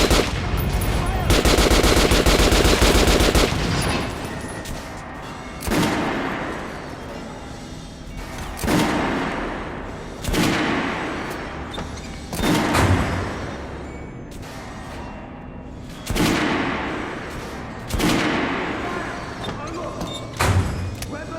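Gunfire at a shooting range in Metro: Last Light Redux, a loud burst of rapid automatic fire followed by a series of single heavy shots spaced a couple of seconds apart, each with a decaying echo, voices talking between them.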